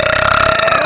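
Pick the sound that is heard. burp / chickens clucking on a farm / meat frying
burp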